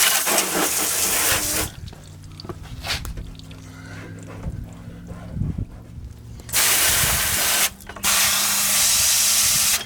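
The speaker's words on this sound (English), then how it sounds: "Go ahead and rinse it out good. Like where the strut is, I'll rinse that out." A water spray rinses a car wheel and strut area, loud steady hissing blasts at the start and end with a quieter gap of running water and rumble between.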